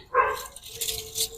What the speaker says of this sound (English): I don't know what's in the world going on with them dogs.